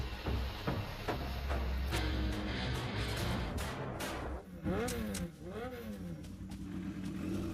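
A motorbike revs and pulls away under a thief in an action film chase, engine roar rising then changing pitch as it departs, with shouting voices and music layered over it throughout.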